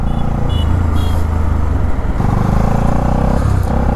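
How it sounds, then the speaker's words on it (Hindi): Bajaj Pulsar NS200 motorcycle engine idling with a misfiring problem, a steady close mechanical rumble with an uneven, stumbling beat throughout. "और अभी एक मिसिंग की प्रॉब्लम आ रही है हमारे NS में"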